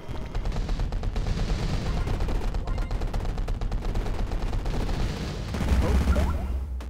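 Weapon fire from the space shooter game Galaxy Ace, rapid continuous bursts of shots and blasts filling the whole stretch, with a louder booming impact near the end and no speech.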